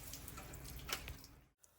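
Water runs faintly from the drain valve of a water heater's thermal expansion tank, a soft trickling hiss with a brief stronger spurt before it cuts off.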